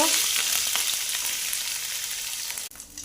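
Grated coconut hits hot oil in a pan and fries with a loud, bright, hissing sizzle that holds steady, then briefly dips as it is stirred before the sizzle resumes.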